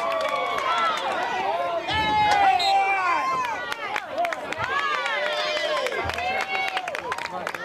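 A crowd at a girls high school soccer match reacts with scattered shouts, cheers and claps while an announcer talks over the noise; the voices rise and fall and the crowd sounds moderately distant.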